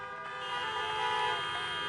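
Many car horns blare together at an outdoor presidential campaign rally in Pennsylvania, a dense overlapping chorus of honks at steady moderate volume with no speech over it.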